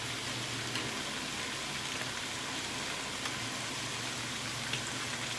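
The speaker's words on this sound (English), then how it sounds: "noodle water is boiling" Constant soft bubbling and hissing of a pot of noodle water at a rolling boil, steady and fairly quiet with no voices.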